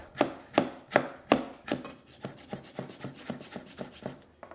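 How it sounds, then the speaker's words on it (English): A knife slices peeled galangal for meatball pho: several crisp, firm cuts at first, then a quicker run of lighter, evenly spaced chops, close and alone with no talking. "Slice into your galangal."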